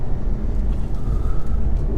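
A 2015 Porsche Panamera Turbo S under hard acceleration, a steady, loud low rumble of engine and road noise heard from inside the cabin, with no breaks and no one talking.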